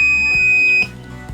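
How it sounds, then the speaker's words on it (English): An Arduino-controlled buzzer in a TV-remote home automation setup gives a steady electronic tone that holds for most of a second, then cuts off, with a faint click and low residual hum afterward. "Press this button, turn on the buzzer."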